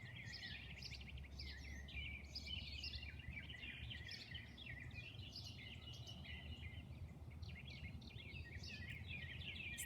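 Many small birds sing in a calm back garden, their high, overlapping chirps and trills running steadily throughout. The calls are soft and somewhat distant over a low background hum.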